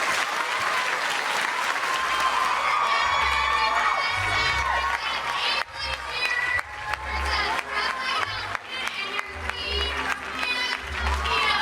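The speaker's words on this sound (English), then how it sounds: "so let's give them a round of applause too" A crowd claps and cheers for a girls' team, dense applause with high shouts and whoops mixed in, while a low rumbling hum runs underneath.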